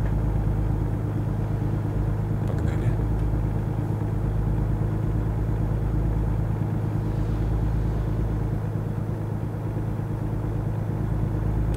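A heavy truck engine drones steadily while driving in American Truck Simulator, a continuous low rumble with a mid-range hum that holds even and unbroken with no voices.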